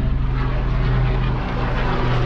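A helicopter flies over a mountain campsite, a loud, steady low rotor-and-engine drone with pulsing throb filling the whole short stretch, no voices.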